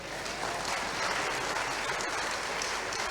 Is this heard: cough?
no